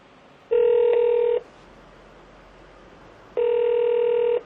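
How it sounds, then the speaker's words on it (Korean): A telephone ring tone sounds twice, each long buzzing ring followed by a pause with low background hiss, as a call goes unanswered. "고객이 전화를 받지 않아."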